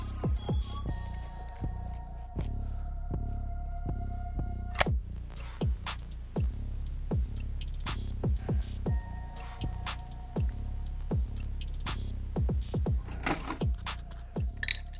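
Post sewing machine restitching the upper of a custom Jordan 3 and 4 hybrid sneaker, a steady low throb with a fast series of sharp needle ticks running through the whole stretch, close and moderately loud, no talking.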